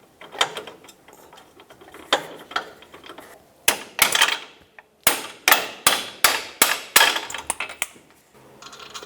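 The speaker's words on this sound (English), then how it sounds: "I can tap the bolt in, and that'll push the extension out" A bolt hammered into the front lower control arm of a 1996–2002 Toyota 4Runner: around a dozen sharp metallic taps, close and loud, spaced unevenly at first and then coming in a quicker, steadier run.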